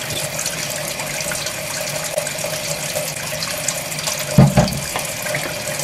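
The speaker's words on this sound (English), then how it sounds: "Pour some soap into that area, and then we're going to shake it up and try to clean that as best as we can." Steady rushing and splashing as soap and water are poured into a steam boiler for cleaning, continuous and close, with a brief louder clunk near the end.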